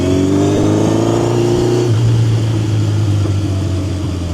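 A 1970 Honda CB750 Four K0 motorcycle engine runs steadily close by, a loud continuous four-cylinder drone whose pitch drops slightly partway through before settling into an even idle.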